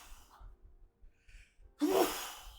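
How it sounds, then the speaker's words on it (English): A man at home sneezes during a football-manager gaming session. Faint breaths and a small catch come first, then one loud, sudden voiced sneeze burst trails off. No speech. "double sneeze. Apologies."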